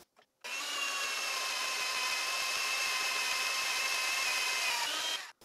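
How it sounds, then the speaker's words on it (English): A homemade magnetic-base drill press boring a hole into quarter-inch angle iron, giving a loud, steady, high-pitched metallic grinding whine. It runs unbroken for about five seconds, then stops abruptly. "I'm going to have to drill dozens of 1/3-64 holes in it so I can tap quarter 20 threads into it."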